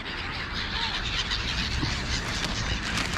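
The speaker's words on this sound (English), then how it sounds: "too many gulls here" A flock of gulls on a garden lawn calling at once, a dense, continuous wash of squawks and honking cries with no single call standing out.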